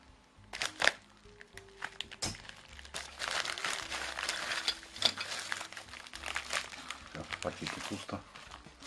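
A plastic delivery package is torn open and handled, bringing sharp crinkling, rustling and crunching bursts close up while a person talks over it.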